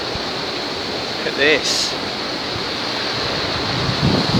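Water rushes steadily through Dedham Lock on the River Stour, a loud, continuous broadband roar, with a person speaking briefly over it.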